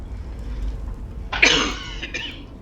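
A single harsh cough bursts out over a low background hum, followed by a shorter second rasp, during Skyrim gameplay.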